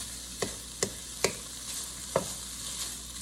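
Ground beef for hamburger sliders sizzles in a pan under a soft steady fry, punctuated by four distinct clacks of a utensil stirring and scraping at intervals, with no talking.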